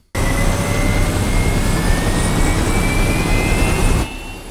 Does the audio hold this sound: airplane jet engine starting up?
yes